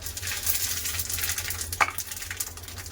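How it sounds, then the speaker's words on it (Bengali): Whole garam masala and bay leaves hit hot mustard oil for chicken biryani, giving a steady, loud crackling sizzle throughout with one sharp tick partway through and no voices. "তেল গরম হয়ে গেছে দিয়ে দেবো বিরিয়ানির গোটা গরম মশলা তেজপাতা"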